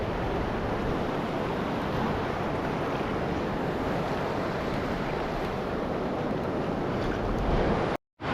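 A river running fast and full, a strong continuous rush of water close to the microphone with a wind-like roar that holds steady throughout before cutting out briefly near the end.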